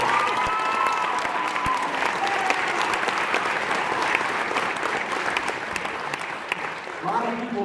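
A theatre audience at a hypnosis show gives dense, sustained applause for the stage volunteers, a steady wash of clapping that tapers slightly near the end as a voice begins.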